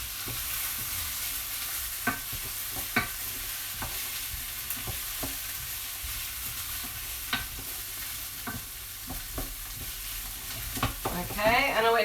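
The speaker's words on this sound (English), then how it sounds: "So you see that's just cooking nicely. The sausages are starting to go a bit golden" Sausages sizzling in a frying pan during home cooking, a steady soft crackle running throughout with occasional clicks and scrapes from stirring or turning, ending with a voice briefly speaking.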